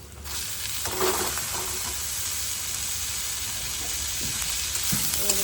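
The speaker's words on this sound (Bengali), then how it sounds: "পেঁয়াজটা কিন্তু লাল লাল করে ভাজা হয়ে গেছে কাঁচা লঙ্কা দিয়ে আর এবার দিয়ে দেবো এই দেখো লাল শাক" Red amaranth leaves sizzle in a pan with onion fried until reddish and green chilli, a steady close hiss with occasional stirring scrapes and no talking.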